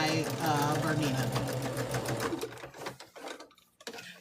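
A sewing machine free-motion stitching a meander quilting pattern, a fast steady mechanical whirr close by that slows, stutters and stops in short bursts toward the end.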